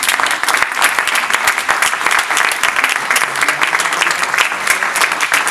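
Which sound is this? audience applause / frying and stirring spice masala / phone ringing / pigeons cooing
audience applause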